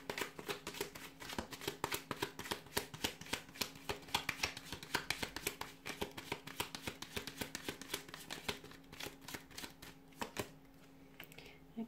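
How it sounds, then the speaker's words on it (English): Tarot cards are shuffled by hand in a quiet room, giving a long run of crisp, rapid riffling snaps and flutters at steady close range, with no talking. "give the cards a shuffle"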